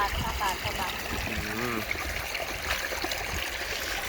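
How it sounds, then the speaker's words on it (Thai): Water streams and trickles steadily from a pipe throughout, a continuous rushing flow close by, with a person talking over it. "เป็นท่อน้ำไหลครับมันเป็นน้ำไหลมา"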